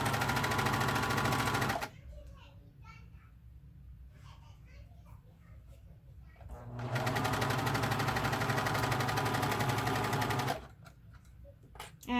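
A sewing machine stitches a pocket bag near a zipper, running in two loud, steady rapid bursts separated by a quiet pause with faint rustling and handling sounds.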